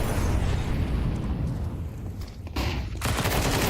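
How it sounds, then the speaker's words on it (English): A flashbang grenade goes off in a Counter-Strike match with a sharp burst, followed by a dense, noisy wash of game sound and a second abrupt crack near the end. "Oh, that's a great flashbang."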